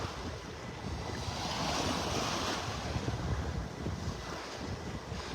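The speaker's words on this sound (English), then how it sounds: "this is actually the very north end of Park Shore Beach" Steady surf washes in under gusting wind at Park Shore Beach in North Naples, Florida, with wind buffeting the microphone in a continuous, fairly loud roar and no voices.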